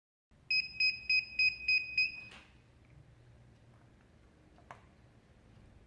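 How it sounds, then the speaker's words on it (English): A buzzer on KTE-ER1000AHU air conditioning experimental equipment sounds five short, evenly spaced electronic beeps, followed by a couple of faint clicks over a quiet hum. "to check whether the buzzer and the lamp"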